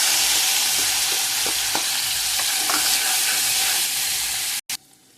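Tomato frying with mustard seeds and cumin in oil, a loud continuous sizzle with occasional stirring scrapes, ending abruptly with a brief pause and a quieter hiss.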